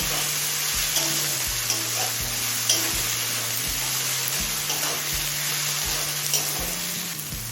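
Grated ginger and spices sautéing in a pan, a dense continuous sizzle with rhythmic spatula scrapes repeating about every half second, close and loud, no voices.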